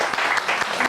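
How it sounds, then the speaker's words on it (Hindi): Studio audience applause for contestant Mazhar on a Pakistani singing competition show, dense and loud with rhythmic clapping surges over a short stretch. "हमारे आज के आखिरी कंटेस्टेंट मज़र के लिए जोरदार तालियां"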